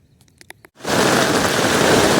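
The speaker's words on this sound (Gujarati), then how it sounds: "વરસાદ તો જોવો તમે યાર કેટલો" After a few faint clicks, heavy rain suddenly sets in and pours down loudly and steadily, a dense roar that holds for the rest of the moment.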